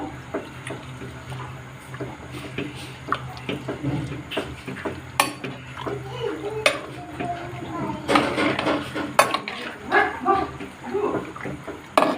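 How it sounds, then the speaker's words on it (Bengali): Mutton being stirred in a pot with a metal utensil for Bengali mutton kosha, with repeated scraping and clanking of the utensil against the pot, while a dog barks and a voice is heard in the background. "ভালো করে একটু নেড়ে দেব।"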